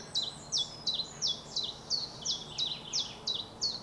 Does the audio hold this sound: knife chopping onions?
no